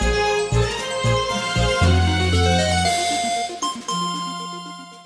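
Orchestral game music from Paper Mario: The Thousand-Year Door, with strong pulsing bass hits giving way to sustained tones and a chiming transition into a new section, loud and continuous with no voices.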